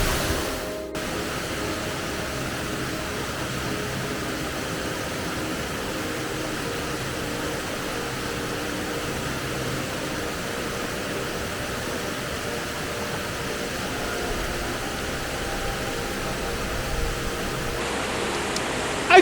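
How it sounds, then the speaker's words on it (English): A large Highland waterfall in Scotland roars as a steady, dense, close rush of falling water that holds constant and unbroken throughout, with no voices over it. "But what an impressive waterfall, and the sound is just,"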